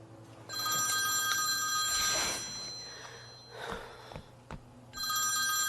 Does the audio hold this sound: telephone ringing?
yes